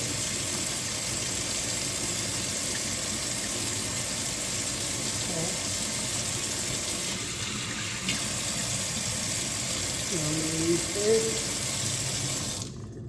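Kitchen tap running steadily into a sink as a continuous hiss of water, with faint clinks and some speech in the background near the end before the flow cuts off.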